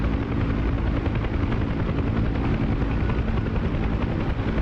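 A UH-1 Huey helicopter hovers in the DCS flight simulator, with a loud, continuous rotor thump and turbine roar holding steady throughout.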